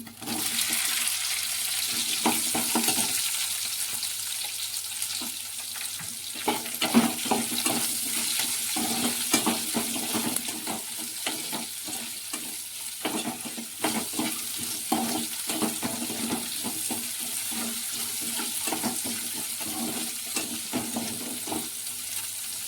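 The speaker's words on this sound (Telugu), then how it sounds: "దీనిలోనే ఉల్లిపాయలు ఎండుమిర్చి వేస్తున్నా" Onions and dried red chillies fry in a pan for an okra masala gravy curry, a steady close sizzle with stirring scrapes and clatters running throughout, no talking.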